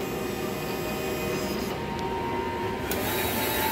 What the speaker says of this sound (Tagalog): Ganito naman po ang tamang pag nozzle check. Pipindutin po yung function button sa machine namin.